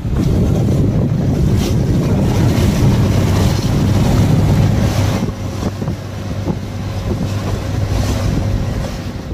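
Boat ride on open water near Ross Island, with steady wind buffeting the microphone and continuous engine and water rush throughout, other boats around, no talking.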